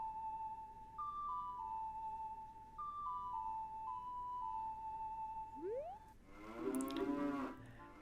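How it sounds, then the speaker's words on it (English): Cows mooing in The Legend of Zelda, two long low game-style moos a few seconds apart, followed by a brighter, louder burst of jingle-like tones from milking both cows inside a building. "Here I align myself in the center of these 2 cows so I don't have to move anywhere and I can milk both of them."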